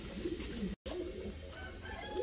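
Crested, rose-headed show pigeons of a fancy breed coo in soft low bursts, close by, with a brief cut midway and faint background bustle.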